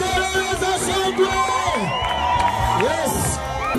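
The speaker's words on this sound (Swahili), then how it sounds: "Ongeza kelele za shangwe." A crowd at an outdoor gospel outreach mission cheering and shouting for joy, overlapping voices, whoops and children's shrieks rising and falling together, loud and continuous throughout.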